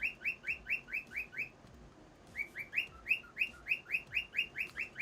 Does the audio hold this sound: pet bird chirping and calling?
yes